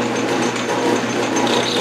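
Metal lathe boring a part with a short, fat carbide boring bar, a loud steady whirring drone of the spindle and cutting with a faint high tone creeping in near the end, no talking.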